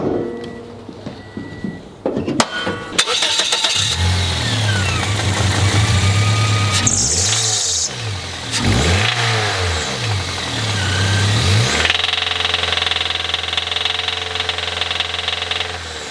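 The engine of a car that a guest rented for about two weeks runs roughly under the open hood, idling unevenly with repeated revs that rise and fall, loud and close, a knocking character throughout and a steadier idle at the end.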